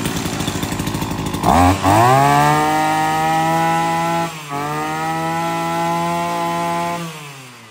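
A Fukiwa FVK 330 brush cutter with a 33cc, 36 mm bore engine starts up and runs with a loud, steady buzzing drone. It dips briefly midway, then holds its pitch before cutting off near the end.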